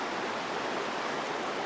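A mountain creek flows steadily with a continuous broadband rush of water, close and fairly loud throughout, with no voices.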